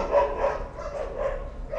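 A dog barks repeatedly nearby in an indoor setting, a steady run of medium-pitched barks and yips continuing through the whole stretch with no talk over it.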